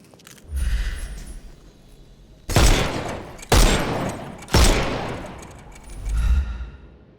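Three sharp, loud pistol shots ring out about a second apart at a shooting range in the video game Sherlock Holmes Chapter One. Softer low thumps come before and after the shots.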